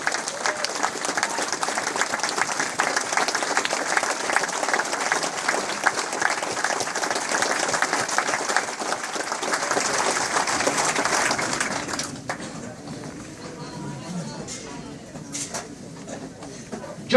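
A standing audience at a civil liberties gathering gives a sustained round of applause for about twelve seconds, loud and dense, then it drops abruptly to quiet room murmur.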